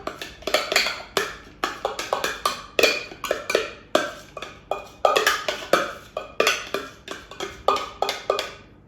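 A spoon scrapes and taps against a bowl while chickpea salad mixture is gathered from the bottom, a rapid series of sharp clinks and scrapes, close and clear, with no talking.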